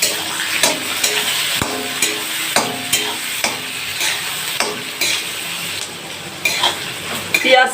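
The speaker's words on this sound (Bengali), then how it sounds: "এবার আমি পেঁয়াজ কুচি দিয়ে দিচ্ছি। সেই সঙ্গে আমি টমেটোও দিয়ে দেব।" Chopped onion and tomato fry in a pan while being cooked for a homestyle duck curry, a steady close sizzle broken by repeated sharp stirring clinks of a utensil against the pan, with no talking.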